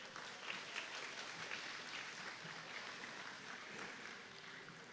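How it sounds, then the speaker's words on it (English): Applause from a county fair queen pageant audience, a steady broadband patter of many hands clapping at once, faint and distant throughout. "everybody give the whole group a round of applause."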